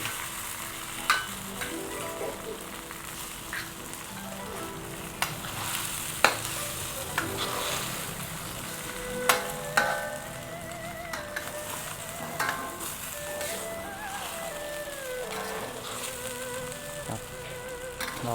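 A Thai oyster omelette cooking with eggs in a hot pan: a steady frying sizzle, broken by intermittent scraping and tapping of a spatula over a long stretch, close and moderately quiet, with no talk.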